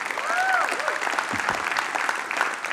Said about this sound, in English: So first, similar to Michael, I want to give a big round of applause to the Techstars mentors